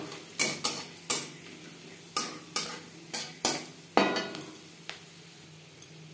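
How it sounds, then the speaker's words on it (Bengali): Cardamom, cloves and cinnamon frying in hot oil in a wok, a soft sizzle under a series of sharp metallic clanks and scrapes of a spatula striking the wok, spaced irregularly and fairly close. "মাছ ভেজে নেওয়া কড়াইতে আবারও তেল দিয়েছি। ফোড়নে দিয়ে দেব এলাচ, লং, দারচিনি"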